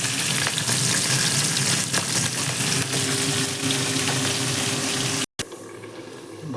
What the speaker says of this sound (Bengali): আরেক লট হচ্ছে ভাজা মাথা, কাতলা মাছের মাথা